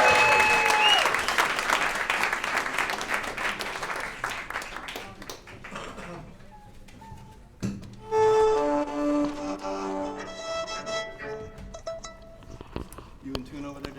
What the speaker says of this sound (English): Let's have one more round of applause and a little more music from the Long Island Vegetable Orchestra.